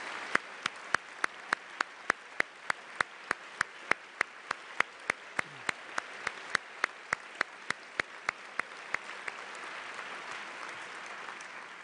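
A luncheon room of about 800 guests applauding a design team, a steady wash of clapping from many hands that holds at a moderate level throughout, with regular sharp ticks over it.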